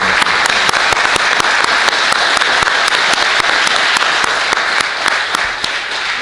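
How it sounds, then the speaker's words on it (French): Loud, sustained applause fills the room as an audience claps together for Rabbi Nathan, a thick, even wash of many hands without a break throughout. "j'aimerais qu'on l'applaudisse tous ensemble"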